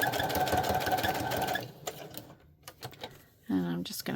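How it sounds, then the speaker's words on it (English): Sewing machine running a straight stitch through a junk journal, a loud steady rapid whir for about a second and a half, then quieter handling noises and a brief burst of speech. "just go around doing the straight stitch again"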